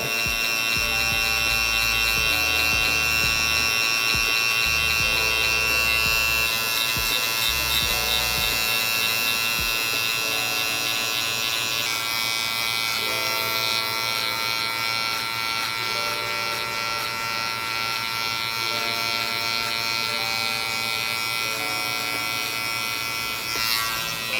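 Electric hair clippers buzz steadily and loudly up close while cutting a low fade in a self-cut, a continuous motor whine with slight shifts in pitch as the blades move through hair, and no talking.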